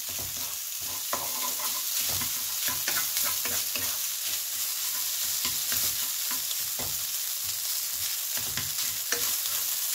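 Garlic fried rice with pork sausage being stir-fried in a hot pan, a loud, constant sizzle with frequent quick spatula scrapes and taps mixed throughout, no voices.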